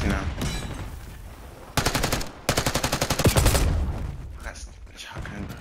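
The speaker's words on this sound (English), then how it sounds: "That's a shotgun." Shotgun fire in the video game Call of Duty Black Ops 6: loud, close gunshot blasts that come in dense, rapid bursts, separated by short gaps and layered over game background noise.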